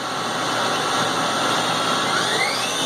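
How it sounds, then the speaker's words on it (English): The spindle of a Haas VF-2 milling machine runs up, a loud continuous whine with a tone that climbs gradually toward the end, heard alone. "We'll start with running up the spindle."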